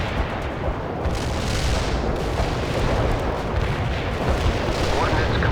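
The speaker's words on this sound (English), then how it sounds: "Out. Artillery strike on the way." An artillery barrage pounds down in the World in Conflict strategy game, a dense continuous rumble of overlapping explosions and booms with a voice cutting in over the din.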